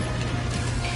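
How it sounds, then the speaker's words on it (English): Autocannon reload in the video game Helldivers 2: a steady, dense mechanical clatter of ratcheting and gear-like clicks over a low rumble, continuous and fairly loud throughout. "Reloading an auto cannon."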